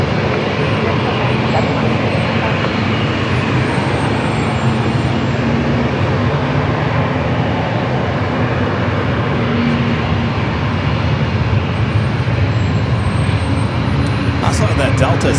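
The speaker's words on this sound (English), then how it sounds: "Number 2 for takeoff, the One World delivery of the 787-9 Dreamliner, the flight heading back to Tokyo Narita." A Japan Air Boeing 787-9 Dreamliner in Oneworld livery takes off from San Diego airport bound for Tokyo Narita, its engines giving a loud, steady, broadband roar that continues throughout. Voices can be heard talking over it.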